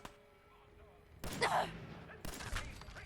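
Gunshots ring out while shooting raiders in Fallout 4: two loud, sharp bursts about a second apart, each trailing a short echoing decay, with someone talking faintly before them.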